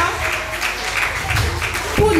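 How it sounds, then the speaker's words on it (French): An audience applauding a couple at a gathering, a steady dense patter of many hands clapping at close range, with voices mixed in and a louder burst near the end. "Est-ce qu'on peut applaudir le couple Ncha pour leur bienveillance?"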